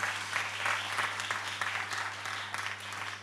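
An audience claps for a performer at a magic show, a steady and fairly faint patter of many hands with a low constant hum underneath.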